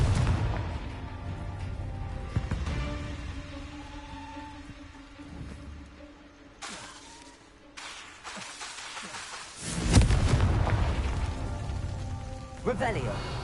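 Confringo fire spell explosions in Hogwarts Legacy, crackling booms and a big burst partway through, heard alongside a player speaking and a steady game ambience.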